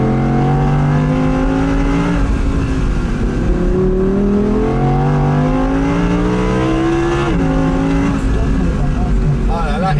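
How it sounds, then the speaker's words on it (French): Audi R8 V10 RWS with its 5.2-litre V10 revving hard from the cabin, a dense rising and falling engine note with sharp gear changes, heard loud and close under continuous talk. "Ah là là, et le moteur, le V10 5 litres 2"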